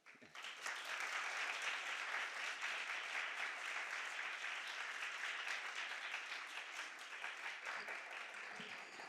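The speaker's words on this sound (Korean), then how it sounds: "우리가 격려와 환영의 박수로 맞이해 주시면 감사하겠습니다." A church congregation at a Sunday campus chapel service gives sustained applause of welcome to a visiting missionary, the clapping rising quickly and continuing evenly at moderate distance.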